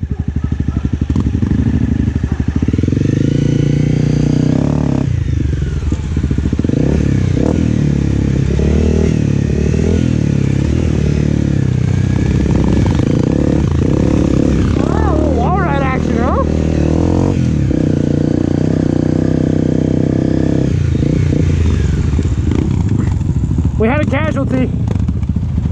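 Motorcycles ride a dirt canyon trail, with a loud, steady engine drone and revving that fills the whole stretch, along with rattling and clatter. Voices talk and call out over the noise.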